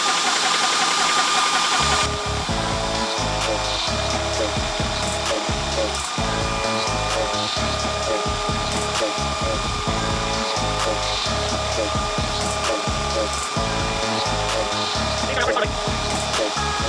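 VEVOR 30MPa portable PCP air compressor starting after two seconds of quiet, then running loud and steady close by with a rapid pumping chug and a continuous mechanical whine; a voice talks briefly over it.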